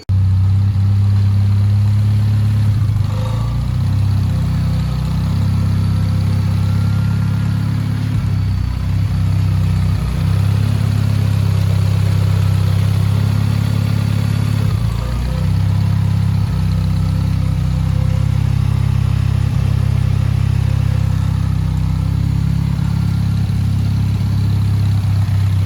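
A Nissan Juke engine with a Fueltech FT550 idles after firing up, a loud, steady low rumble continuing throughout with slight rhythmic fluctuations and no talk.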